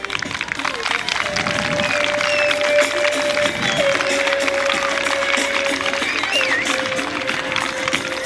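An audience applauds at a Guardia Civil demonstration at CP Maliayo school in Villaviciosa after a Labrador sniffer dog finds hashish. The crowd clapping is steady and continuous, with voices and a sustained tone running through it.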